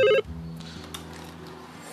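A telephone gives one short electronic ring at the start for an incoming call, followed by quiet room tone.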